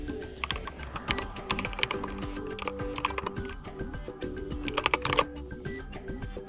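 Rapid typing on a computer keyboard, entering a fastboot command to relock a Xiaomi phone bootloader: close, crisp key clicks in uneven bursts, quieter near the end, with no talking.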